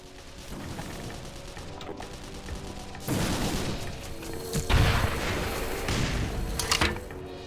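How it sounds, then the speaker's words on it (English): Exploding penguins in the video game Black Mesa set off a run of booming blasts and thuds over a busy background. A heavy burst lands midway, and several sharper cracks follow in quick succession. "Ooh, exploding penguins."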